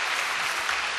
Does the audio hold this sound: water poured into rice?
no